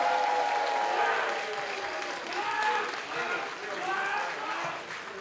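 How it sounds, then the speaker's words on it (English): A convention audience at a sci-fi fan event applauds Chancellor Gowron, a moderate wash of clapping that swells and eases, mixed with voices from the crowd. "Give him a warm round of applause."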